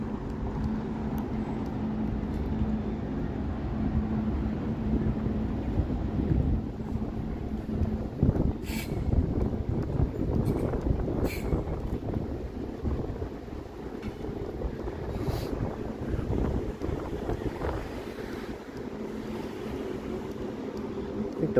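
Gusty wind buffets a microphone on a city street in Toronto on a summery Friday evening, a steady rumbling roar with faint traffic beneath and a few brief clicks, no voices.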